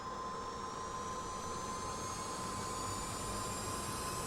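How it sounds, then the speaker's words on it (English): A fighter jet's engine spools up in the DCS World flight simulator, a steady, even whine and roar with a faint high tone running throughout, holding at constant level with no talking. "Crank the engine."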